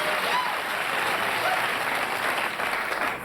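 A television studio audience applauds loudly and steadily at the opening of The Tonight Show in 1984, a dense wash of clapping that holds for a few seconds before easing slightly.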